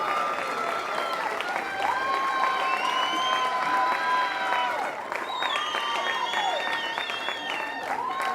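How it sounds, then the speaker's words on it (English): Crowd applause and cheering for both teams after the 2017 Herald Women's Premier League grand final, Merewether United against Valentine, steady and sustained with whistles and shouts riding over the clapping. "give both teams a warm round of applause"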